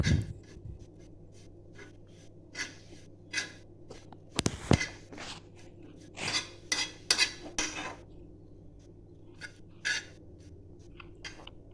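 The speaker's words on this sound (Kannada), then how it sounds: "ಅದೇ ಹಂಚಿಗೆ ಒಂದು ಬೌಲಿನಷ್ಟು ಒಣ ಕೊಬ್ಬರಿ ತುರಿನ ಹಾಕಿ ಫ್ರೈ ಮಾಡ್ತಾ ಇದ್ದೀನಿ" Dry grated coconut is stirred in a pan, giving faint, intermittent scraping and scratching strokes of a utensil against the pan with a few louder knocks, no talk.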